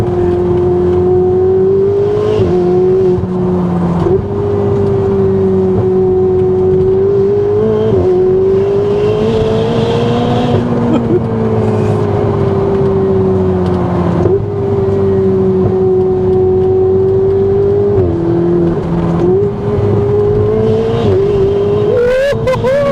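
A Ferrari 488 supercar engine drones loud and steady, its pitch rising and dipping repeatedly as the revs climb and fall with brief gear-change breaks, continuous throughout with no talking.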